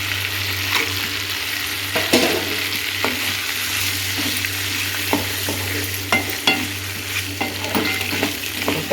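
Chillies being sautéed and stirred in a pan for egg chutney: a steady sizzle of frying with repeated scraping strokes of the spoon, close and continuous, no talking.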